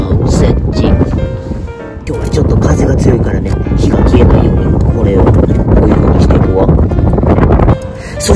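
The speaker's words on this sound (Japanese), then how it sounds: "今日はちょっと風が強いからね、火が消えないようにこれを" Strong wind buffeting a microphone outdoors, loud, continuous rumbling gusts, with a voice talking over it.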